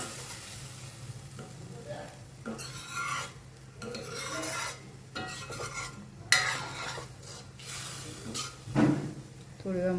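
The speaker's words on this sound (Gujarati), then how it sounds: "હવે આપણે મગ એડ કરીએ." Mung beans are added to a hot pan and stirred, producing a steady sizzle broken by scraping stir strokes and utensil knocks. Someone talks over the cooking.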